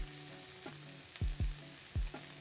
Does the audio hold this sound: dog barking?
no